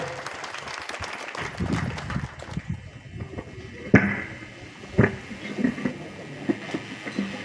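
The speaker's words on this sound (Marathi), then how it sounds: "एकदा जोरदार टाळ्या सन्माननीय पवार साहेबांच्या साठी होत्या" An audience at a retirement felicitation ceremony in Khanapur applauds, a burst of clapping that thins out into scattered, isolated claps and soft room noise.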